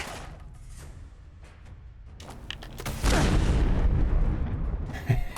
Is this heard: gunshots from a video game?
yes